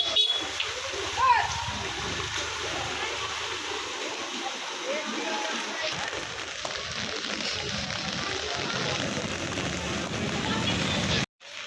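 Rain falls and splashes on a street near the Tarakeswar temple, with water draining away, a loud continuous rushing hiss that stays close throughout and ends abruptly.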